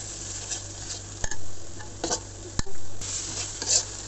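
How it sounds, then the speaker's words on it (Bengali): Turmeric and coriander powder sautéed in a pan for a pangas fish curry, with several sharp spatula scrapes and knocks over a low, steady sizzle close by. "মশলাগুলো কষিয়ে নিচ্ছি।"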